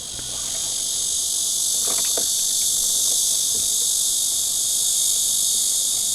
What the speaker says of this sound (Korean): 오늘은 매미가 계속 이 사운드를 채워줄 예정입니다.